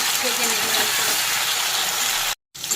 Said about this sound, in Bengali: কপি আর আলুগুলো লাল করে ভালো করে ভেজে নিয়েছি